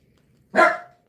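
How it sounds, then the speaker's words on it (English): Dog barking once indoors, a single sharp, close bark against a quiet room. "Brownie, quit that barking, you turkey."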